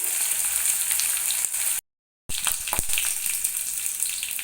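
Potatoes fry in oil over a full gas flame for a potato and ridge gourd curry, a dense, continuous sizzle heard close and loud, broken by a short silent gap, with no voices.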